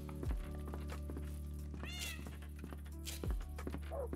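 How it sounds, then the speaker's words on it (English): A cat in the Minecraft video game meows several times over a steady electronic drone, with a few soft thunks between the calls; no one speaks. "What is up, cat?"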